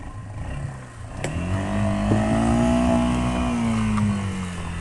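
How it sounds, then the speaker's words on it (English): Mud Buddy outboard motor revving on sand, a near engine that climbs in pitch, holds a high steady drone, then eases back down. "Sound like an outboard motor."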